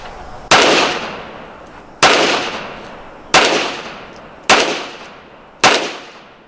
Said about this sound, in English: You can take a couple shots here.